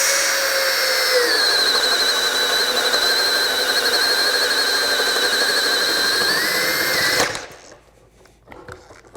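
A Metabo HPT 18V MultiVolt hammer drill in low gear bores with a 1 1/2 inch bit, giving a loud, steady high whine for about seven seconds before cutting off abruptly, followed by faint handling noises.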